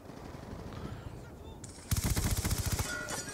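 Rapid machine-gun fire in Call of Duty Black Ops 2, a loud burst of closely spaced shots breaking out after a stretch of quieter game noise and continuing to the end.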